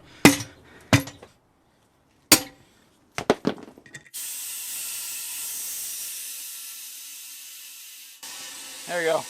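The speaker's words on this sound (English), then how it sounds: "then you hammer around the outside and it distributes the load all the way around the strap" A hammer strikes around the outside of an ATV/UTV tire to seat a bead strap: several sharp, loud metallic blows in uneven bursts, followed by a long steady hiss.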